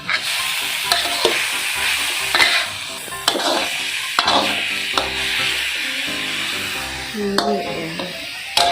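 Holy basil stir-fry (pad kra pao) sizzles in a pan late at night, with loud repeated scrapes and clacks of a spatula stirring over a steady frying hiss, close and busy.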